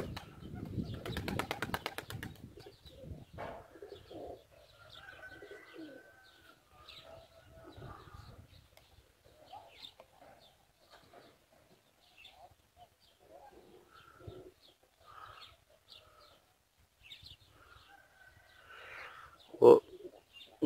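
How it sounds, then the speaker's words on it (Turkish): A white pigeon coos softly in a quiet outdoor loft, with low intermittent calls and a brief flutter of wings near the start and a sharp sound near the end. "Şu şekilde beyaz güvercinimiz yine geldi."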